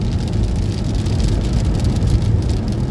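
Rain drums on a car driving along a Montana road, a loud, steady wash of patter blended with road and engine rumble, continuous and close throughout with no voices.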